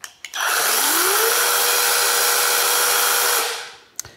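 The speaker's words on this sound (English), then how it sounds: "Even though this is electric, it's actually quite a powerful little saw" Stonecho mini electric chainsaw, its small motor spinning up from a couple of short trigger clicks into a steady high whine, held loud and close for about three seconds before winding down, followed by a click.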